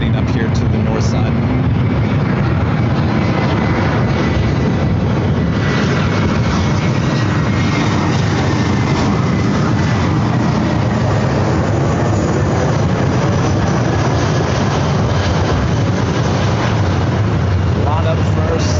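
A Boeing 787-9 Dreamliner jet bound for Warsaw roars at LAX airport, a loud, steady, broadband engine rumble sustained across the whole stretch with no break.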